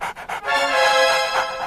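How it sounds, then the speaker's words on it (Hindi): A cartoon dog pants in quick rhythmic breaths, close and fairly loud, with a few short huffs before a steady run of panting. "कितना अच्छा कुत्ता है।"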